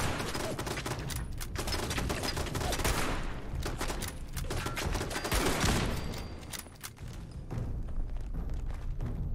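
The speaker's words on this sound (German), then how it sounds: "Hier ist irgendwo noch ein Geschütz" Dense turret gunfire in the Fallout 76 game, a loud sustained fusillade of rapid shots with thumps, continuing almost without pause and briefly easing before rising again.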